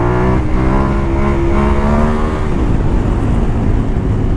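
A KTM 1290 Adventure S motorcycle engine revs hard and close, pitch climbing steadily through one gear before a brief dip and a rougher, fuller drone as the next gear engages.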